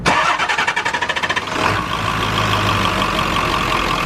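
An overhauled vehicle engine cranks with a rapid, rhythmic starter chug for over a second, then catches and settles into a loud, steady idle rumble close by, no talking.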